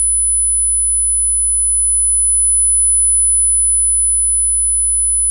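A steady, pure 10,000 hertz sine tone plays alone at constant loudness, a continuous high-pitched whine with no break for the whole stretch.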